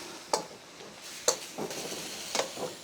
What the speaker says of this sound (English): So the sauce is actually starting to bubble and thicken